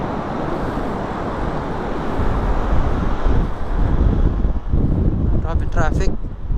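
Road traffic rumbles around a rider on a Voge SR150 GT scooter, with heavy wind buffeting and engine noise, loud and close, while someone talks over it.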